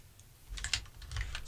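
A set of Games Workshop Shadespire game dice is unpacked, producing light, close clicks and rattles of small plastic pieces in two quick bursts.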